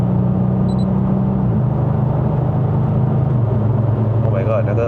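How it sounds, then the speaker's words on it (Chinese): A 2012 Audi S8's 4.0L TFSI bi-turbo V8 drones steadily from inside the cabin on a drive in Malaysia, its low engine note holding then stepping down in pitch as gears change. "那个 V8的声音真的让人陶醉啊"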